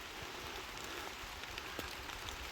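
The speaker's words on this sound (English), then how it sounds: "The sound of rain on these leaves under these trees." Rain falling on leaves beneath trees in a woodland, a dense, even patter with scattered individual drops, soft and continuous with no voices.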